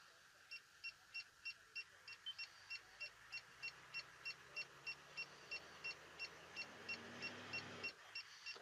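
A tow vehicle creeps up onto weighing ramps for a caravan trip, its low engine hum faint beneath a steady, evenly spaced series of beeps that continue throughout before a soft thump near the end.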